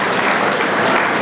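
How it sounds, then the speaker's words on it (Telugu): Audience in a hall claps together at a school award ceremony honoring tenth-grade students, a dense, steady burst of applause lasting about a second with no pauses. "ఒకసారి గట్టిగా చప్పట్లతో స్వాగతం పలుకున్నాం."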